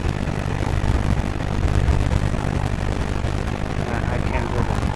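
Steady low jet engine rumble inside a Zibo 737 airliner in a flight simulator game, a constant dense roar with broadband hiss, fairly loud, with some faint talk mixed in.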